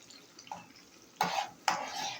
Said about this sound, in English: I will allow this to fry also for some few minutes after giving it a very nice stir to mix everything together.